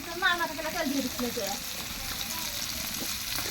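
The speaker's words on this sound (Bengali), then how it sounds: "তো এই যে মাছ ভাজতেছি" Fish sizzles in hot oil in a home kitchen, a steady crackling hiss that runs throughout under a short stretch of a voice at the start.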